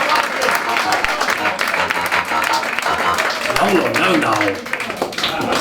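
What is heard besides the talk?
comedy show audience applause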